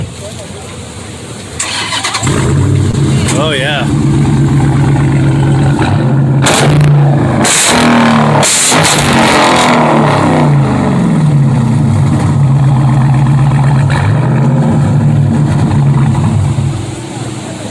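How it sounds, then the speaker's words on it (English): A muscle car at an outdoor car show fires up and its engine settles into a loud, steady rumbling idle with a throaty exhaust note and occasional revs. People talk briefly over it. "Okay, to fire it up so we can hear that exhaust."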